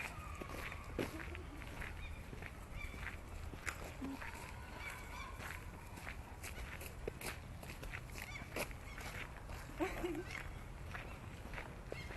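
Waterfowl in a park by an old churchyard in Esbjerg honk and call in short bursts over faint outdoor ambience and footsteps on a path, distant and quiet.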